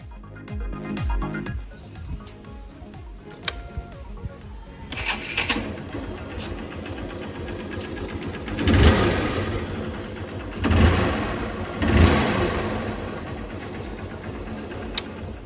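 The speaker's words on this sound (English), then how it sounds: "Let's start the engine." Hero Honda CBZ Xtreme motorcycle from 2010, freshly renovated, starting up and idling, with three distinct throttle revs rising and falling near the end over a steady engine hum.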